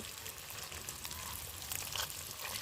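Eggs frying in hot oil for an egg, potato and bori curry give a steady, close crackling sizzle that runs without pause for under three seconds, with no voices.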